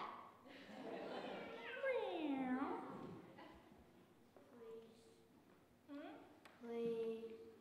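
During a church service, a person's voice imitates a cat, giving drawn-out, sliding meows followed by a few shorter mews, fairly close and clear against a quiet room.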